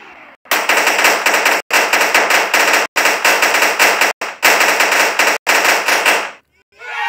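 Sustained automatic gunfire in the blocky shooting game Blocky Cars, loud and rapid, broken by a few short pauses between long bursts, with no talking over it.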